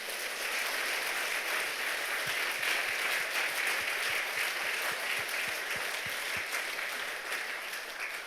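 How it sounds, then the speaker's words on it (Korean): Sustained congregational applause fills a church revival service, dense and steady throughout, with a faint rhythmic clapping pattern emerging in the middle. "우리 하나님께 영광의 박수 합시다"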